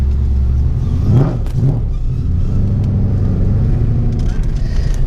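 A 1971 Jaguar XKE E-Type fitted with a 383 stroker engine rumbles steadily from inside the cabin during a ride, a deep continuous low drone with a brief rise in revs and someone talking over it.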